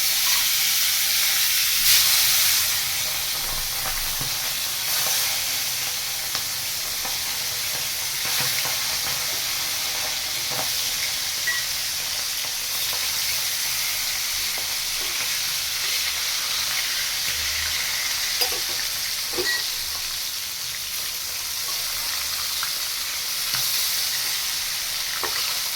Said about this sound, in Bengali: ট্যাংরা মাছগুলোকে ছেড়ে দিয়েছি, এবার একটু ভাজা হোক